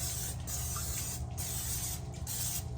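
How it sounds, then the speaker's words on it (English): Nonstick cooking spray hisses into a casserole dish in a home kitchen, a close, steady aerosol spray broken into a few short bursts with brief gaps between them, fairly quiet and with no talking. "I'm gonna put some nonstick spray in this casserole dish."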